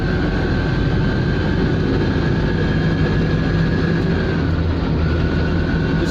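An Invacar invalid carriage engine driving at speed on the road, a loud continuous droning engine roar with a steady whine, unchanging and close throughout.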